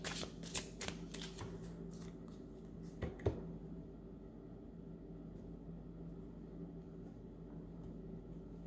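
A deck of tarot cards is shuffled, a few quick riffling bursts near the start and again around three seconds, soft and close, then fading into a quiet room hum.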